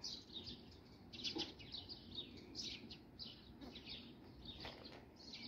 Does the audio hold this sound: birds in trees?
yes